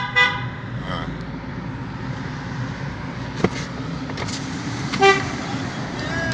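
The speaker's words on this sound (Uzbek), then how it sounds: "Hamma o'tganlar signal chalib," Cars passing a checkpoint post between Sirdaryo and Jizzakh regions sound their horns in several short toots over steady road traffic, with voices audible in the background.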